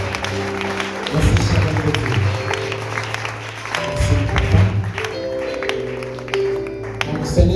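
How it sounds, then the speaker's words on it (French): Church congregation applauding and cheering to acclaim God, sustained loud clapping across the room with a speaker talking over it. "nous acclamons très très fort le Seigneur des rois et des rois"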